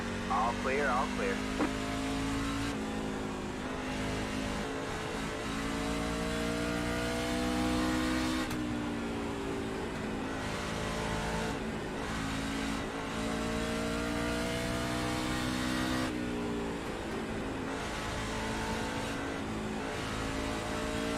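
NASCAR stock car engines roar around the short track at Bristol in a racing video game, the revs climbing and dropping through repeated gear and throttle changes, loud and continuous for laps, with speech mixed in.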